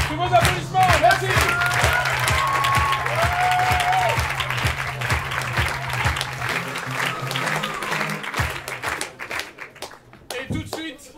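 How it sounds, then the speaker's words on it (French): An audience at a Paris improv theatre festival applauds the departing players, loud sustained clapping over a rhythmic low music beat, with voices and cheers mixed in before it thins out toward the end. "Tous vos applaudissements, merci."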